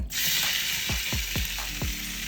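Bite-sized pieces of beef fillet sizzle loudly in a hot pan, a constant bright hiss broken by several soft thumps as the pieces shift and settle.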